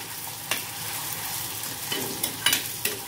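Tomatoes being sautéed in oil with reddened onion in a pan: a steady, close sizzle with a few sharp scraping strokes of a spatula toward the end.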